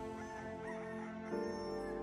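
A faint rooster sound effect crows once during a Passion Play performance, a drawn-out cock-a-doodle-doo heard quietly in the distance.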